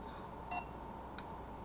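A SECRUI wireless doorbell chime gives a short, bright electronic beep while pairing, then a quicker, fainter blip about half a second later. Both stand alone over a quiet room hum, with no talking.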